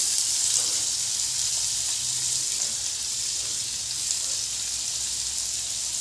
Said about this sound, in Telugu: ఆనియన్ వేస్తున్నాను